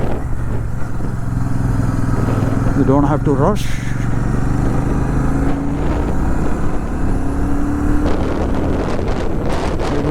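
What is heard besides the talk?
Royal Enfield Shotgun 650 motorcycle riding on test ride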